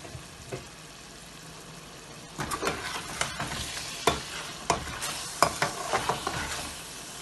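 Chicken for BBQ chicken curry roasting in a pan, with a steady frying sizzle and scraping stir strokes that turn louder and more frequent after the first couple of seconds.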